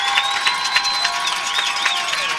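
A high school football crowd at a Mountain Home Bombers versus Harrison Goblins game cheers loudly and steadily, with high yells and whistles rising over the continuous roar.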